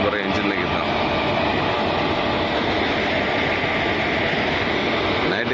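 Steady rumbling roar of the Tiruchendur Express train engine, a continuous broadband drone held at an even level throughout, with talk over it.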